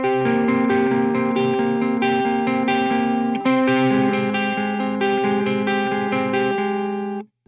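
A distorted electric guitar in drop C tuning plays a repeating low riff, steady and loud with effects, continuing for several seconds before cutting off.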